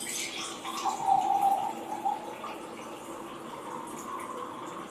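Water from an Aquaveda portable alkaline steel jug is poured into a container of oil, a steady close trickling pour that swells briefly and then continues softly.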